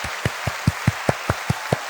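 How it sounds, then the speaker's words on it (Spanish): Sparse, evenly spaced claps from a small audience during a history talk on Alexander the Great, about nine distinct hand claps in two seconds, fairly close and dry with no speech. "Primer aplauso"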